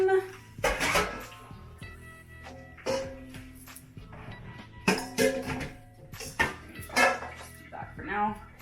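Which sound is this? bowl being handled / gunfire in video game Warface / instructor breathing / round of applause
bowl being handled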